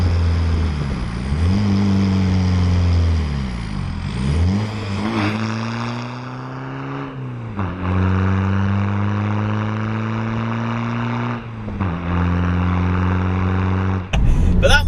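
Modified VW Golf diesel engine with a straight-pipe exhaust revving repeatedly, rising and falling in pitch, loud and close with a raspy rumble, no talking.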